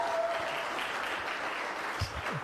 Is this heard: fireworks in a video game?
no